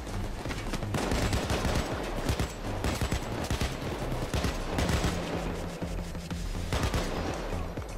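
AK rifle fire in the shooter Payday 2, with rapid bursts and sustained automatic volleys crackling almost nonstop, loud and close, with brief pauses between strings and no voices.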